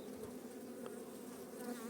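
A steady, dense hum of many honey bees buzzing together inside a hive, continuous and soft.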